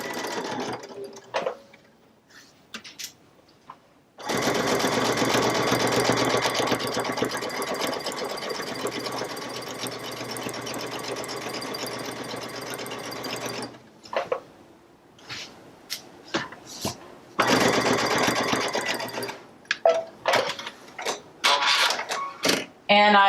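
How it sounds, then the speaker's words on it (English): A sewing machine stitches along the outline border of a table runner, a loud, even mechanical whirr in long runs, broken by short starts, stops and quieter gaps between bursts. "I'm going to go ahead and stitch this right inside that outline border."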